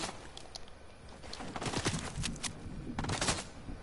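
Scattered gunfire in Fortnite, a series of sharp cracks of mixed loudness, some distant and some closer, with no talking over them.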